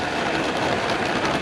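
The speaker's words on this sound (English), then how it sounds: "Ooh, train!" Model train running on a layout at a train and hobby show, a steady continuous rumble and clatter with broad noise throughout, fairly close and without talk.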